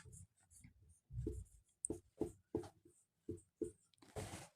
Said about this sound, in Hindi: लेटर कोडिंग में हम लोग पहला क्वेश्चन लिखते हैं